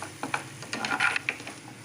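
Spoon stirring rava kesari in a hot pan, giving scraping, shuffling strokes with a light sizzle, close and fairly loud, with no voices.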